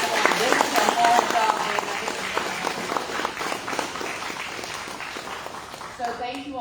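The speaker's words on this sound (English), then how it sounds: "Can we give them all a round of applause?" A candidate forum audience claps for the participants in a sustained round of applause, with a voice speaking briefly over it at the start and again as the clapping tapers off.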